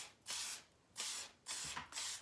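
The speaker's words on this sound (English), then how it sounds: "And I'm going to spray this guy pretty good." A spray bottle misting watercolor paper, four short, soft hissing bursts in an even rhythm, close and quiet with no talking.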